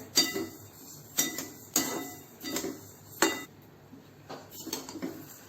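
Kala masala spices being dry-roasted in a pan over medium-high flame, giving repeated clinking scrapes of a spoon against metal at an uneven rhythm, close and fairly loud, with no talking.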